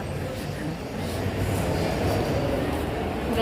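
A small tourist train rumbles past at a park in Mangalore, a steady, fairly loud rolling drone that builds slightly over a few seconds, with faint voices in the background.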